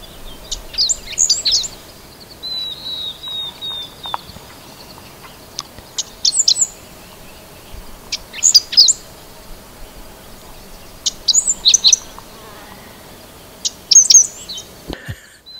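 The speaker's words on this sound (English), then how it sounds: "five-striped sparrow, one of the rarest sparrows in North America, if not the, just landed 20 feet away from me on the perfect perch." A five-striped sparrow perched about 20 feet away in the canyons of southeast Arizona gives bright, high chirping calls in several short bursts, spaced apart over quiet background, with no voices.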